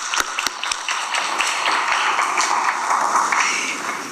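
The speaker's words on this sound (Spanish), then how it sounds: "Aplausos." An audience at a conference session on reducing plastic pollution breaks into applause: a few sharp early claps, then a dense, moderately loud wash of clapping that holds steady to the end.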